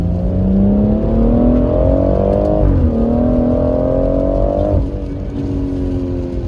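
A BMW M140i accelerates hard with a loud, rising engine note. It climbs through two quick gear changes, each marked by a brief drop before the pitch rises again, and no voices are heard.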